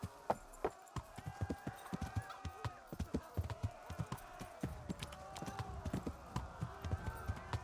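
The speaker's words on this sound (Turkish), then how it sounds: "Atın temel tırıs hızıdır." A horse trots in Kingdom Come 2, its hooves clip-clopping in a steady, quick rhythm on the ground throughout, with faint game ambience underneath; no clear talking.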